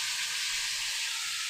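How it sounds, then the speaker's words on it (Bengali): Cauliflower lightly frying in a pan gives a steady, close sizzle with an even hiss throughout and no voices. "একদম হালকা হালকা করে ফুলকপিটাকে ভেজে নিচ্ছি।"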